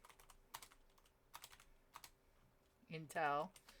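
Light tapping of computer keys in short irregular bursts, close and quiet, followed by a brief voice near the end.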